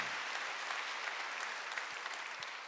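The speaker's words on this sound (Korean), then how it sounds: "박수 하세요." A congregation at a Korean church Wednesday worship service applauds together, a loud, dense, sustained round of clapping that continues evenly throughout.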